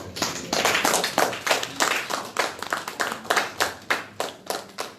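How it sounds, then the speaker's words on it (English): Applause at the opening ceremony of a disabled people's regional assembly, as a small audience claps in distinct, rhythmic bursts that stay steady and close for several seconds. "I say you should applaud him for that"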